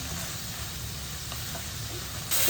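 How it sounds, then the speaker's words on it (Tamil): Spinach greens sauté in a pan with a steady, soft sizzle and a faint stirring scrape. The sound is close and unbroken, and a brighter hiss rises briefly at the end. No one speaks. "கீரையை நல்லா வதக்கிடுங்க இறக்குறப்ப உப்பு போட்டுக்கலாம்"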